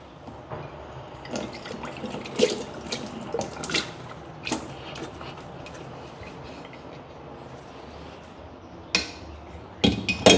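Espresso machine flushing water through its group head, a running splashing stream with clinks and clatters of equipment scattered over it, fairly close and without speech.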